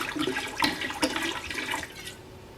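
Everclear grain alcohol glugging from a bottle into a three-gallon batch of jungle juice, a steady splashing pour for a couple of seconds that tapers off at the end, close up.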